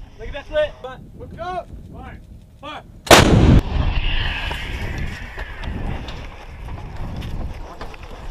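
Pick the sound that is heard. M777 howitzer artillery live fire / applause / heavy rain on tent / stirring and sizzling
M777 howitzer artillery live fire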